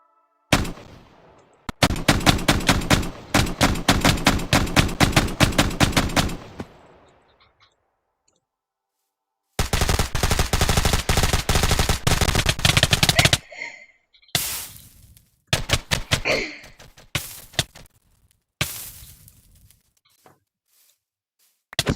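Shotgun fire in a Minecraft modded weapons match rings out in loud rapid volleys, pausing briefly, then resuming in another long burst, followed by scattered single shots.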